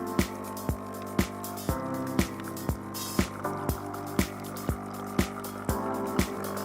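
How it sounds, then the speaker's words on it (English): A Nescafe Dolce Gusto Infinissima coffee machine rinses water into a container, a steady pumping hum with regular rhythmic clicks about twice a second, close and alone. "Infinissima will start rinsing."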